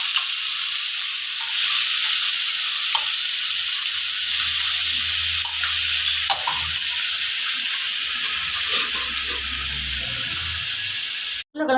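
Potatoes frying in a pan with curry leaves and salt make a steady, close, loud sizzle, joined by a few scrapes of stirring and no voices.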